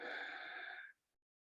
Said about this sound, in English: listen to the sound of the breath on the inhale